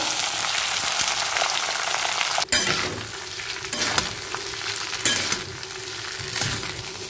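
Everyday rice stir-fried with cumin seeds in a hot pan gives a steady close sizzle, broken by a few scraping stirs and light clinks, with no one talking.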